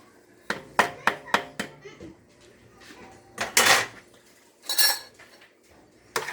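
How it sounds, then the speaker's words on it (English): Vegetables tipped into a cooking pot in a home kitchen, heard as a quick run of sharp metallic clanks and scrapes of utensils against the pot, followed by two louder rattling bursts and another clank. "now I'm going to take all the vegetables and just add them in"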